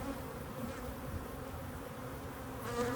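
Honey bees buzz around a hive with no eggs or brood in a dense, continuous drone that swells slightly near the end; no voices.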